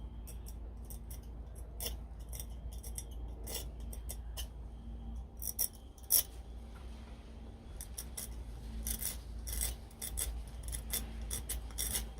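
Repeated gritty scraping strokes as a tool is pushed into and scraped across a sand mould surface, close up and steady, with short louder rasps scattered throughout.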